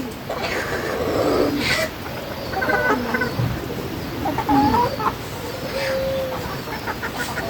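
Free-range chickens roam a netted garden of about one bigha on a farm with golden hens, giving scattered clucks and short calls at close range, with occasional voices in the background.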